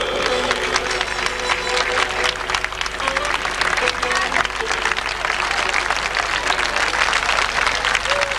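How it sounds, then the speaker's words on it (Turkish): An audience at a tribute event applauds continuously, with loud, dense clapping and some cheering throughout and a low steady hum beneath. "Alkışlıyoruz."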